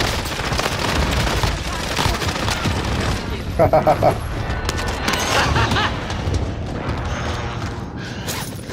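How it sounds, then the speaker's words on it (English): Precision airstrike explosions in a video game: dense, rolling bursts of blasts and gunfire-like cracks fill the whole stretch at close range, with players talking and laughing over them. "Be advised, friendly precision airstrike inbound."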